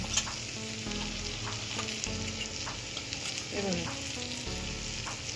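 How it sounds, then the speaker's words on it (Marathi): Chili powder and turmeric masala frying in hot oil for a Malvani colocasia leaf curry, a steady dense sizzle with occasional stirring scrapes and faint background tones, close and constant with no talk. "तिखट किती पाहिजे ते पूर्ण असं तेलामध्ये फ्राय करायचं ते मसाला थोडी हळद टाकायची"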